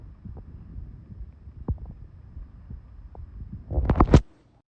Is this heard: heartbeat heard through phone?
yes